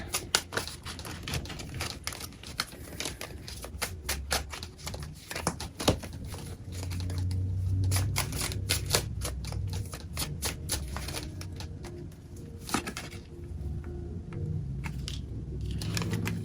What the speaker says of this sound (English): I'm going to shuffle all that back in and get one final card